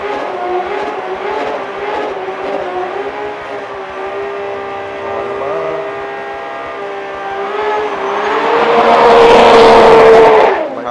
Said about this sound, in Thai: เบิร์นนานไปยามันจะโอเวอร์ฮีทนะเพราะว่าฮีทหน้ายางมันจะเหลวใช่ไหมจิมมี่